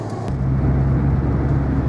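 A car drives along a city street, giving a steady loud interior rumble of engine and road noise with a constant low drone and no talking.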